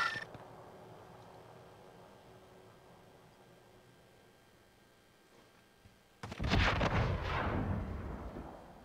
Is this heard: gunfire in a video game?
yes